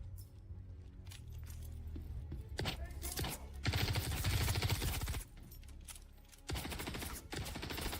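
Weapon fire in Star Citizen, sustained bursts of rapid automatic shots with brief pauses between strings, moderately loud and close, with faint background rumble.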